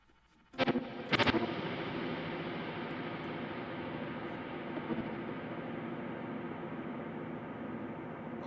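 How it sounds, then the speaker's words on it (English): A guitar run through a very large reverb effect: two sharp strums at the start bloom into a long, dense wash that sustains and slowly decays to the end, with no talk. "That is fucking huge reverb."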